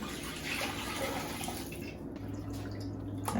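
Two cans of water poured into a pot of palmnut stew with cream, a continuous splashing, gurgling stream close by that shifts in tone as the pot fills, with no talking.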